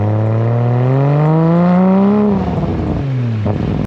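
A Nissan Skyline R34 GT-R with an HKS manifold and a full custom 4-inch straight exhaust revs hard, climbing to a loud sustained peak before the revs fall away and a sharp pop ends it.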